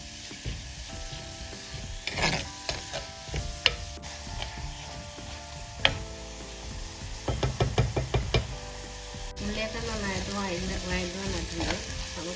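Crushed shallots and curry leaves sizzle and crackle in hot oil while Kerala karimeen (pearl spot fish) curry is made, with steady frying hiss, a few sharp knocks and stirring clatter close by.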